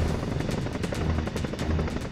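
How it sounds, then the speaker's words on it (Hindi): An Indian Air Force Chinook helicopter flies at a high-altitude advanced landing ground near the China border, its rotor blades thudding in a loud, rapid, steady beat over a constant engine roar. "चिनूक हेलीकॉप्टर से वायुसेना के गरुड़ कमांडो एक खास ऑपरेशन को अंजाम दे रहे हैं"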